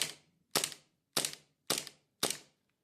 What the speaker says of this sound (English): We're just going to dry fire 1 or 2.